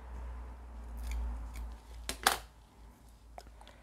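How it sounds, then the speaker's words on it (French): Scissors snip a small piece of paper for a mini pop-up craft page, a few quiet close cuts followed by one sharper, louder snap of the blades, with nobody speaking. "Donc, je coupe un petit morceau."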